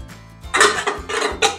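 A metal idli steamer vessel clatters and clanks as it is handled near the stove while water heats for steaming patolya wrapped in turmeric leaves, with several close, bright metallic knocks and scrapes and no talking.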